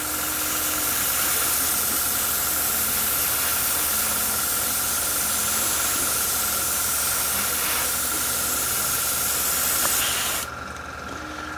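An airbrush sprays a third coat of paint with a loud, steady hiss of air that runs continuously for about ten seconds, then cuts off abruptly, leaving quieter background noise.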